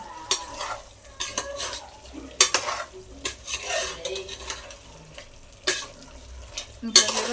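A spoon stirs chicken and masala in a pot. Irregular scrapes and metallic clinks come close up over a faint sizzle of frying, with no one speaking.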